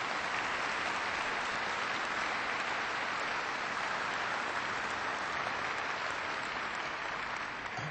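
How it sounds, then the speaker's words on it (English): Steady, sustained applause from a conference audience, dense even clapping lasting the whole stretch at a moderate distance with no speech over it. "Please give her a big round of applause."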